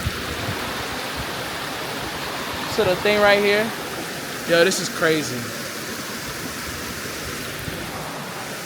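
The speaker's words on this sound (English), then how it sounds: "Oh look, we found this creek." Steady broadband rush of creek water flowing outdoors runs throughout, with people talking briefly over it in the middle.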